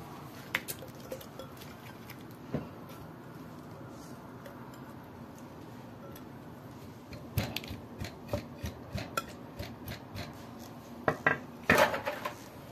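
Chunks of kiwi, pineapple and lime are dropped into a glass for a mocktail, making a quiet run of soft clinks and taps that grows into several sharper knocks near the end, with no talking.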